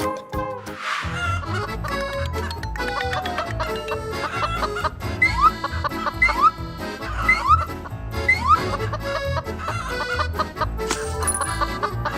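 Chickens cluck intermittently over a busy musical backdrop, their short calls popping up repeatedly amid the melody.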